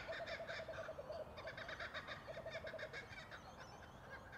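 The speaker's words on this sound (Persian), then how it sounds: "این صدای پرنده است به اسم کوکابارو." Kookaburra calling at dawn in a park in Australia, a run of rapid, repeated chattering call bursts going on throughout, loud and fairly close, with a steady bed of other bird sounds behind.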